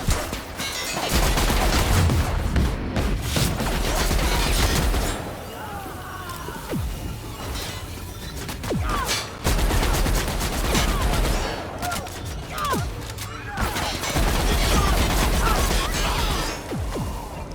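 Bursts of gunfire sound in The Outer Worlds video game, with rapid shots and impacts crackling through much of the stretch amid game effects and some voices.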